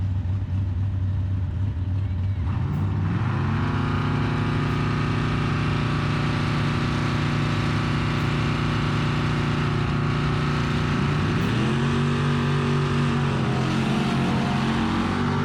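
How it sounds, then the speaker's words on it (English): A twin turbo GMC truck at a drag strip roars loudly for about fifteen seconds, its engine pitch climbing and shifting in stepped rises as it launches, with a voice talking over the sound. "I believe this is one where I break the tires loose"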